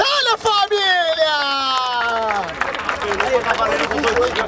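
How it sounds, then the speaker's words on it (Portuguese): Crowd at a Brazilian freestyle rap battle in Barueri, SP, bursts into clapping and cheering after a loud voice calls out over it, the applause building into a dense roar. "Palmas pra essa batalha, família!"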